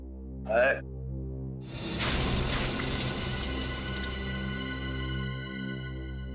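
Water is poured over an unconscious drunk man, a splashing gush that bursts in and then trails off, just after a short vocal sound, while steady tonal music plays underneath.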